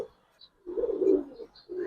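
A single male flying pigeon, a military-type racer, gives a low soft coo near the microphone, short murmuring phrases with brief pauses.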